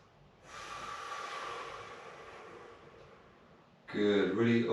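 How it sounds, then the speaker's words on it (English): A long, deep exhale during yoga, a soft airy rush lasting about three seconds and close to the microphone, followed by someone speaking. "Breathe it away."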